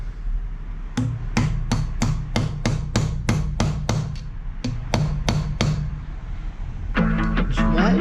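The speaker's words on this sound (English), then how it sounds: "So I can just sit that nicely on the top and tap it to get it started." A motorcycle front wheel bearing, a Yamaha Vmax's, is tapped into place with about fourteen sharp, evenly spaced metallic hammer taps, close and clear, followed by a faster rattle of lighter knocks.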